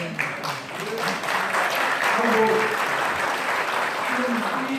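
Lecture audience applauds in a steady wash of clapping lasting several seconds, with a voice briefly heard over it.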